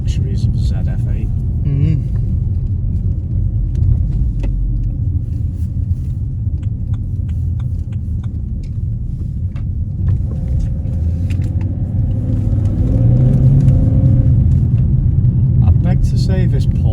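A BMW 330d with a ZF 8-speed automatic accelerates gently at light throttle, giving a steady low diesel rumble inside the cabin that rises slightly toward the end, while people talk over it.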